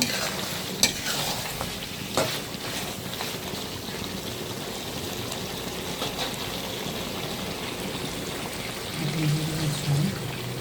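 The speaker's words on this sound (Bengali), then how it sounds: "এখন জল দিয়ে দিব" Water goes into a hot pan of browned cock chicken curry, loud hissing and sizzling at close range with scattered stirring clatter, while a low voice murmurs briefly near the end.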